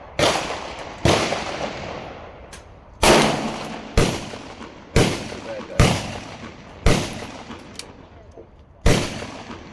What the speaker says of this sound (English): 100 shots fired through my Colt Kodiak 44 mag